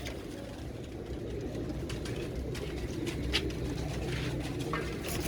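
Pigeons coo softly in low, murmuring, overlapping tones, with faint clicks and rustles mixed in from the loft.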